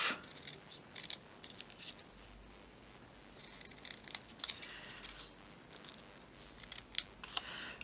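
Scissors snip through paper card while trimming it for a decorative oval window box craft, a string of quiet, close cuts in short irregular bursts with no talk.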